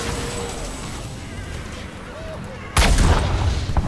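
Agents fire in Heroes of the Storm with a sudden loud volley of gunfire and booms, breaking in after a stretch of quieter game noise and voices.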